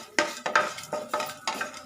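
A spoon stirs a tempering of three dried red chillies in a pan, making five quick, evenly spaced scraping strokes over a soft sizzle, close and clear.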